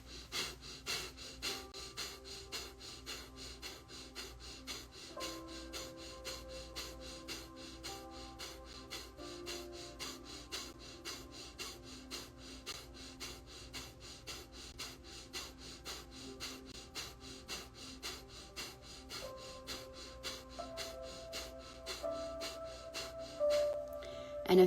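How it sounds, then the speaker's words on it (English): Slow guided breathwork, with steady breaths drawn in and let out through the nose in a repeating rhythm. The breaths are soft and close, with quiet sniffing and exhaling under a faint background hum. "We're going to start the breath pattern now together."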